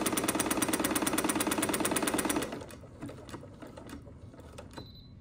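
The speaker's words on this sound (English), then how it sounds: "And you just keep sewing and keep sewing, and the machine is going to stop when it needs to stop." A sewing machine stitches a buttonhole in a fast, loud, rhythmic mechanical chatter for a couple of seconds, then stops automatically, leaving faint clicks and handling sounds.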